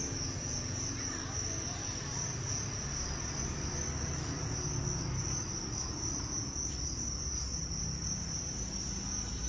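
Crickets on a gecko and scorpion farm chirp in a dense, continuous high-pitched chorus, steady and quiet throughout with no voices.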